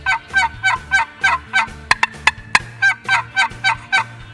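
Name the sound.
turkey call yelps imitating hen turkey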